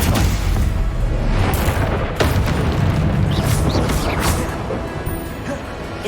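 A Stupefy stunning spell cast in Hogwarts Legacy: loud booming blasts and crashing impacts, with sharp bursts near 1.5 and 2.2 seconds, over dense game sound that fades slightly toward the end.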